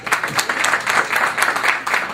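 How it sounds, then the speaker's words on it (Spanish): Audience at an international seminar bursts into steady applause, dense overlapping claps filling the whole stretch at a fairly loud, even level with no voices on top. "Un fuerte aplauso para la doctora"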